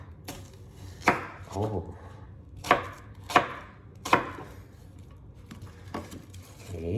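A sharp knife chops onion and garlic on a board, giving about six loud, separate thuds at an uneven pace close by, with a single short spoken exclamation between them.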